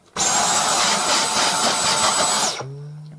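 A Dyson V10 Absolute cordless handheld vacuum cleaner running on its low setting, a loud close steady motor whine with a high tonal hum that holds for over two seconds, then cuts off and spins down.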